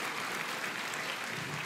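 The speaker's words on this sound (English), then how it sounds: "Come on, you should clap." Church congregation clapping in steady, dense applause that fills the room for the whole stretch, with no voices standing out above it.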